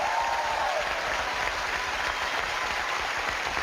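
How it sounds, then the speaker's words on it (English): A live audience at a paranormal show breaks into a steady round of applause, loud dense clapping filling the room without a break. "give her a round of applause"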